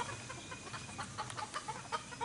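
Chickens cluck softly around a rooster on a homestead, a quiet, distant cluster of short clucks and murmurs that grows busier over a faint background hum.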